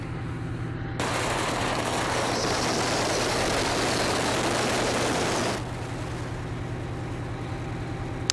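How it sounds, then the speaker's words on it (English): Hauled fireworks ignite in a dense, continuous barrage of rapid crackling pops at a highway pileup on I-94, holding for several seconds, then cutting back to a lower roar of background noise. "that would be fireworks igniting as our camera rolled"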